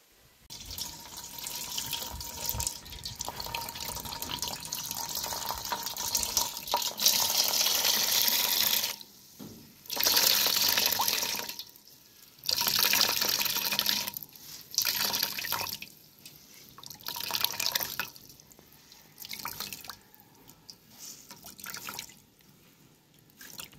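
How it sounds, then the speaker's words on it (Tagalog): Coconut milk squeezed by hand through cheesecloth, freshly grated from two coconuts, runs and drips into a bowl in a steady liquid trickle. Bursts of pouring and dripping break off into short pauses, close and moderately loud, with no talking. "Saka natin siya pigaan para yung ating gata ay talagang walang maihalong sapal."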